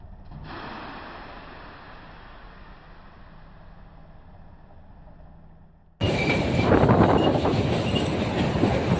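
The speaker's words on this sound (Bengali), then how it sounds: "সিমলা স্টেশনে টয় ট্রেন ধরার অপেক্ষায় আমরা।" Toy train sounds at Shimla station in rainy weather: a low rumbling rail noise for the first six seconds, then an abrupt louder burst of clattering and rushing noise close by, with no talking.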